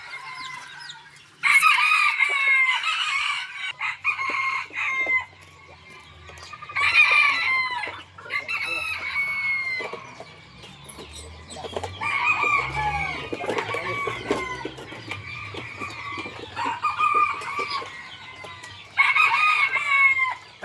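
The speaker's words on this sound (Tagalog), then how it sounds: "nandito tayo sa manukan ni Boss Rico." Roosters at a gamefowl farm crow repeatedly in loud, overlapping bursts, with hens clucking steadily between the crows against a low background rumble.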